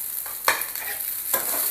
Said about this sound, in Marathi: आता जो कांदा घेतला आपण तो भाजायचा आपल्याला.